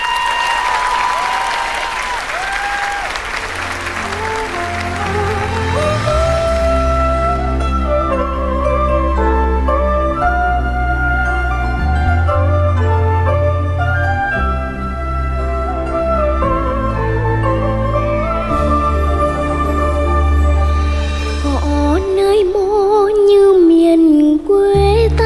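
Audience applause for a singer on the TV show Người Bí Ẩn: a loud crowd clapping for several seconds that gives way to music as the performance begins.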